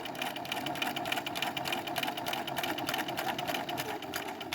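A Bernina B 380 sewing machine runs steadily, its rapid, even needle stitching rattling on without pause. The sound is fairly faint and close, with no talking.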